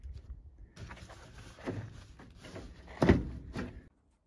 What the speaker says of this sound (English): Still locked. Where's my door lock?